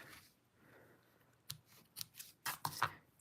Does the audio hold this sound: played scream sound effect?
no